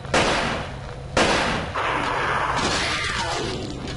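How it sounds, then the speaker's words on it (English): Two sharp, loud gunshots crack about a second apart in the video game Silent Hill 4: The Room, each followed by a booming, rumbling tail that lingers to the end. "Gunshot. Boom."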